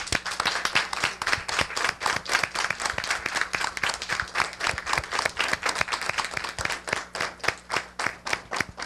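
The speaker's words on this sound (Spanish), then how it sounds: "para ellos tres pido un fuerte aplauso" Sustained audience applause at the close of an academic panel discussion on postdoctoral research, with many hands clapping densely and steadily throughout, fairly loud and with no talking over it.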